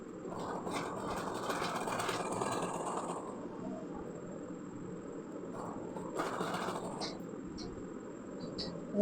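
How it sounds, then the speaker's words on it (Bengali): A sewing machine runs a straight seam along pajama waistband fabric with a continuous rattling hum that stays close and steady throughout, broken by a few faint clicks. "সোজা করে পুরোটা সেলাই দিয়ে দেবো"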